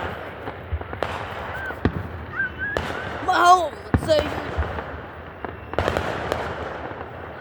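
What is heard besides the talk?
4th of July fireworks exploding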